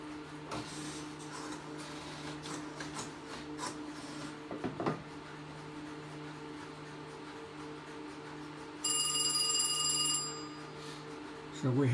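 A multiparty telephone line rings out its ringing code, a steady ringing tone joined by a brief higher electronic burst, heard alone over a constant mechanical hum.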